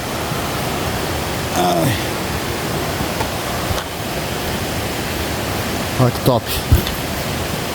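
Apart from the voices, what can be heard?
waterfall at Cachoeira Rio Silveiras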